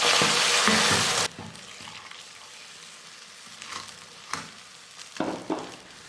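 Semolina halwa cooks on a low flame until it turns darker brown. A loud sizzling burst lasts about a second, then drops to a quiet simmer with a few scattered stirring scrapes and knocks.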